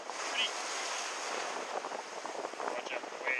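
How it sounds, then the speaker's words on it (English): Ocean surf washes onto a beach during crab fishing, a steady broadband wash with wind buffeting the microphone and a few faint brief higher chirps, continuous at moderate level with no talk. "watch out for the waves"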